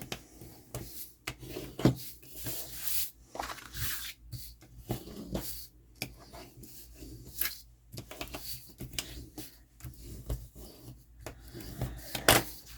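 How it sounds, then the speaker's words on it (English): Paper pieces for a craft cover are burnished by hand, producing quiet, irregular rubbing and scraping strokes that come in bursts and short pauses, close and soft, with no talk. "Okay, now I'm just going to burnish all of these"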